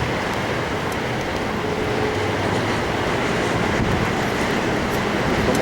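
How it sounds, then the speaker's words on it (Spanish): Fierce storm wind roars steadily with heavy sea surf crashing near a lighthouse swamped by waves, a dense, constant broadband rumble with no pauses or distinct voices. "una tormenta feroz."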